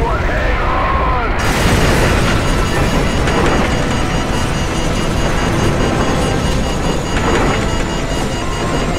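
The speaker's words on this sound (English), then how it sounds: "What appears to be an explosion of epic proportions." A massive nuclear blast in Call of Duty 4: Modern Warfare hits suddenly after a quiet second, then rolls on as a loud, continuous roaring rumble with sustained low thunder for the rest of the clip.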